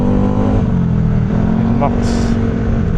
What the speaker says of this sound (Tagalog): Ingay ng tambutso nitong